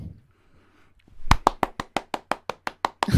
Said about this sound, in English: where was your clapping on a Thursday night?